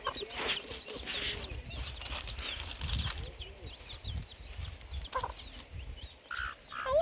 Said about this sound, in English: Everywhere we go, we find chickens.